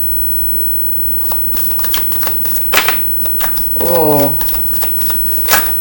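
A deck of tarot cards is shuffled and drawn in a series of quick, close riffles and flicks, and a voice briefly exclaims partway through.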